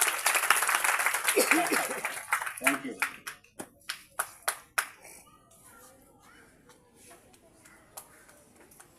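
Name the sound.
audience applause at a theatre event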